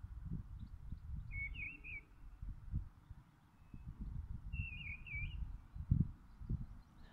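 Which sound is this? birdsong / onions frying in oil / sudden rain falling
birdsong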